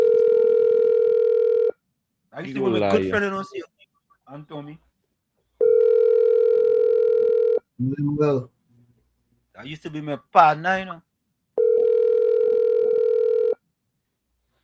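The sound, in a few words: telephone ringing on an outgoing call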